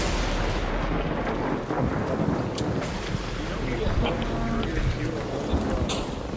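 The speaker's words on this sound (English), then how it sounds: "I couldn't hear you over lightning." Rolling thunder during a storm in the game Arc Raiders: a continuous loud rumble with wind and crackling bursts fills the whole stretch, close and heavy, with no voices over it.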